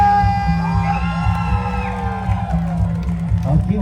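Crowd at a Gawai Dayak festival event at Annah Rais Longhouse cheers for Team Sonia, sustained loud shouting and whooping over music-like tones, with voices mixed throughout.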